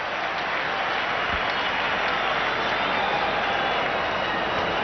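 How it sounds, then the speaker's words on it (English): A large stadium crowd at a 1996 World Cup cricket semi-final between India and Sri Lanka in Kolkata, cheering a single with a steady, distant roar of applause and noise that fills the whole stretch. "they're cheering singles now"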